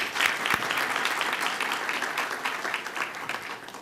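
A crowd at an outdoor Pakistan Independence Day celebration in Queen's Park, Ontario, applauds steadily, a dense wash of clapping that holds for several seconds and then eases slightly.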